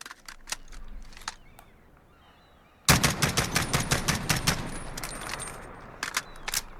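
An SR-25 rifle fires from prone on its bipod in Call of Duty Modern Warfare: a few spaced single shots, then a rapid, steady string of sharp cracks, moderately loud.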